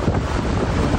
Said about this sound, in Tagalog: Nagngangalit din ang alon sa Legazpi Albay kaninang umaga.